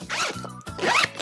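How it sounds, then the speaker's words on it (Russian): Zipper on an envelope pocket of a FOX carp fishing bag pulled open in two quick close strokes with a short pause between them, no talking. "Все эти конверты сделаны на молнии."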